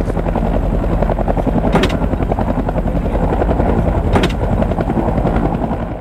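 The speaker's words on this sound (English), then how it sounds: "we're chasing them with our spray planes." A crop-spraying aircraft used against coca fields in Colombia flies overhead. A loud, steady engine roar with a fast pulsing beat runs throughout with no talking.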